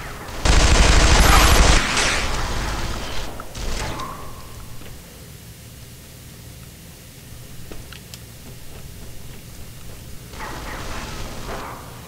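Controlled bursts of automatic gunfire in the game Interstellar Marines, a loud rattling volley followed by shorter bursts, then a quieter stretch before more distant firing returns.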